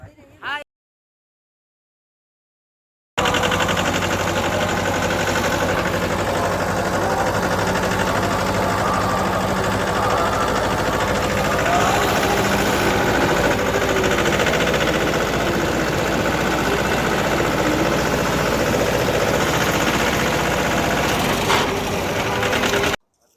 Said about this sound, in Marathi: आपण आता ट्रॅक्टर घेऊन निघू